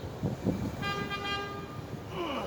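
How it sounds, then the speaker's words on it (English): A car horn sounds a sustained honk over a noisy outdoor street background, moderately loud and a short distance away. "Sound the horns."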